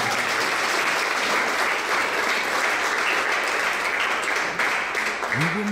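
A church congregation at a youth service claps in a dense, sustained burst that fills the room evenly. Near the end a voice starts to rise above the applause.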